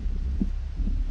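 A heartbeat in the horror video game Pigface plays as low, muffled, throbbing thumps over a steady hum, in a short, close burst.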